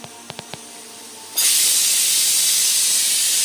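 Cumin seeds and asafoetida hit hot oil in a home kitchen and break into a loud, steady sizzle partway through. A few light taps come first, then the close, continuous hiss of the frying.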